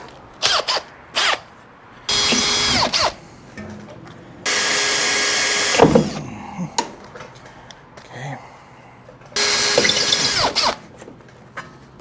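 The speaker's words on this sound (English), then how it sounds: "I'm just going to drill these three screws out." Several bursts of a power drill whirring as it drills out screws on a Ford Dentside truck bed, separated by short pauses, metallic clicks and handling noises, loud and close.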